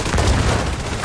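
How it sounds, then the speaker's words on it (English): Grenade launcher explosions from The Division 2 video game, a dense, sustained low boom with broad rumbling noise filling the full second, loud and continuous without clear separate blasts. "Hey, grenade launcher! Grenade launcher!"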